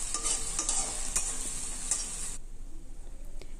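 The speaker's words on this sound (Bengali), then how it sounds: "এবার মশলাটাকে আমি ভালো করে কষিয়ে নিচ্ছি।" Spice paste with ginger sizzles in a kadai and is stirred with a spatula, a loud continuous frying hiss with scraping strokes that suddenly drops away near the end, close and with no voices.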